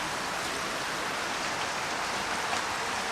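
Steady rain pours down onto a flooded street during a typhoon, a dense, even hiss of water that stays constant and fairly loud throughout with no voices.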